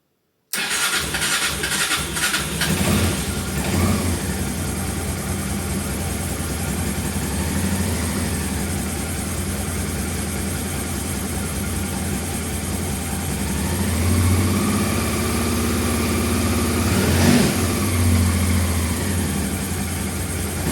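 A Honda Transalp 600 motorcycle engine, just rebuilt and running without an air filter, idles roughly on only one cylinder after a long layup, giving a steady, loud, uneven drone with a couple of rev swells.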